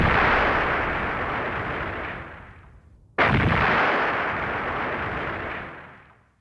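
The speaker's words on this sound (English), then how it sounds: "The powder exploded." Blasting powder detonates in a rock hole, set off by a spark from an iron tamping rod: two heavy, booming explosions about three seconds apart, each slamming in loud and close before rolling off in a long, decaying rumble.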